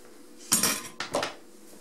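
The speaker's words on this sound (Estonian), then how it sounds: "Ja sellepärast ma tahangi teda nagu natukene vispliga segada väikeste pööretel." A whisk beats coffee roll sponge batter in a bowl in two short bursts of clinking, scraping strokes against the bowl, close and distinct, with quiet in between.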